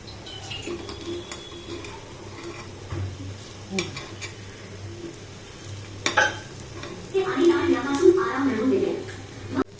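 Moong dal appe frying in an appe pan and being flipped one by one, with soft sizzling, scraping and light clinks of the utensil against the pan, growing busier toward the end while someone talks.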